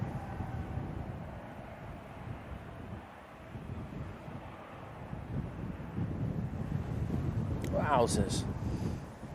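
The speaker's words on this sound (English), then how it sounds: "That is breezy." Strong wind buffets an outdoor microphone at an airport viewing spot, a continuous low rumbling roar that swells and eases, while a man briefly exclaims near the end.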